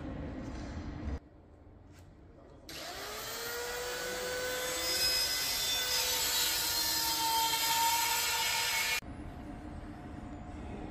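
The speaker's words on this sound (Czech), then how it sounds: "drážka je vyfrezovaná a trhlina v tom vidět není" Steady, loud machining whine of a milling cutter cutting a groove into a gray cast iron pulley in a workshop, with tonal lines rising as the cut starts, running for several seconds alone and stopping abruptly.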